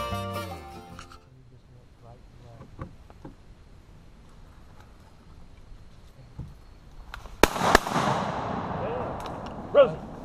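Shotgun blasts while duck hunting, a couple of sharp loud reports late in the clip after a quiet outdoor stretch with faint ticking, and people talking at the start.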